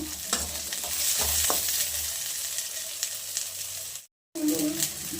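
Onions fry in a pan for an egg and chicken curry, a close, continuous sizzle with stirring scrapes, cut by a brief silent gap before the sizzling resumes.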